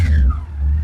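A Yamaha FJR 1300 motorcycle with a full, open exhaust revs hard from idle, a loud, close, deep engine roar that swells, dips briefly and rises again.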